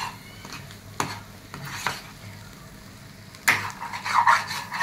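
Pond-fish roe fries in a pan and is stirred, giving a low sizzle under intermittent scraping and clinking strokes from a spoon against the metal. A louder cluster of stirring comes near the end.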